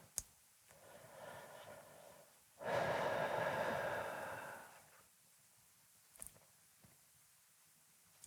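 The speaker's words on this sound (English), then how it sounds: "A couple of deep breaths." A single person draws a long, audible breath through the nose and releases it in a slow exhale, close and soft, with a click and faint rustles around it in a quiet room.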